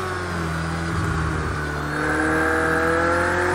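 Race car engines in Project Cars 2 on PC, a sustained engine whine climbing in pitch as the car accelerates, loud and close with no voices.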